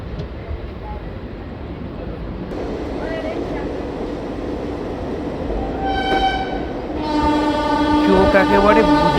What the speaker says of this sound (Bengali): রাত প্রায় 12:30টার সময় অবশেষে ট্রেন ভুবনেশ্বর পৌঁছালো